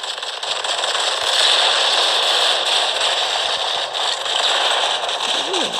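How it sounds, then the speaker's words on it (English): Grenade blasts in a shooter video game come through as a dense, loud crackling and rumbling wash that fills the whole stretch without pause, with a player's voice faintly under it. "we're throwing grenades now"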